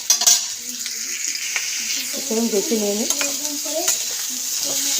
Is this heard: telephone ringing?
no